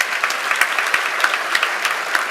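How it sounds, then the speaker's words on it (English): Audience applause at a university graduation ceremony for medicine and health sciences, a dense steady clapping from a large crowd with sharper individual claps, continuous for the whole stretch. "I think he deserves a special round of applause"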